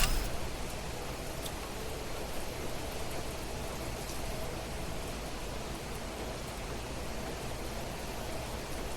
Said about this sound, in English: It's raining outside and quite loud.